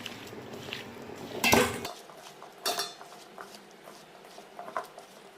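Egg potato curry ingredients with Kashmiri red chili being mixed together in a dish, giving a loud clatter of utensil and bowl near the start, then a few softer scrapes and taps spaced out afterward.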